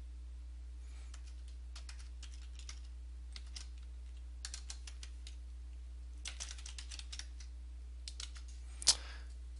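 Soft clicks of a computer keyboard come in short irregular bursts as a ticket title is typed, faint and close against a low steady hum, ending with one sharper click.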